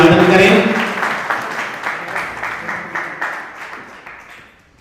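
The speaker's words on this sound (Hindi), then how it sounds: "आप जोरदार तालियों से स्वागत अभिवादन करें" Audience clapping at an annual Rathyatra festival gathering in Raj Nagar Extension, Ghaziabad, starting as a brief burst, then thinning into scattered rhythmic claps that fade away.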